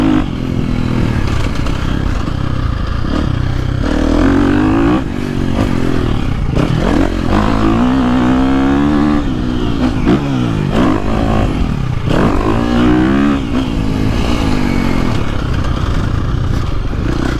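A KTM 350 SX-F or Gas Gas MC350 dirt bike engine revs loud and close on a slick track, its pitch rising and falling steadily throughout with occasional clatter, no voices.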